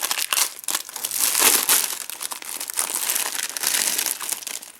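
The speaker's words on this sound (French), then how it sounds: "je vais déballer les autres boosters" A Pokémon booster pack's foil wrapper crinkles and tears continuously as it is pulled open up close, with bursts of sharp crackling throughout.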